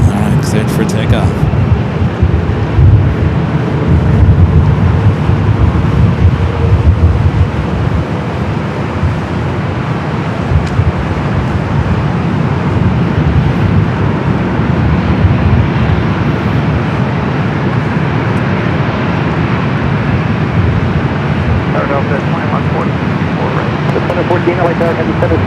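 An Emirates airliner taking off from runway 24 left at Los Angeles International Airport, a broad continuous jet roar heard from a distance, steady and loud throughout, with radio chatter mixed in.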